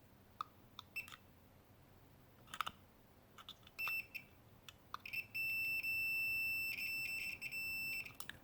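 A continuity meter on a CB radio antenna cable emits short electronic beeps, then longer steady tones, as the probes touch and hold contact with the antenna's copper disc, clear against a quiet background with light handling clicks.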